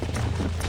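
Horses galloping in the Red Dead Redemption video game, a dense, continuous hoofbeat rumble heard close and loud, with no gaps.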